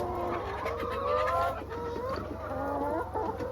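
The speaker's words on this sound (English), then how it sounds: "second chicken pen." Several chickens clucking and murmuring close by in a farm chicken pen, overlapping calls over a steady background hum.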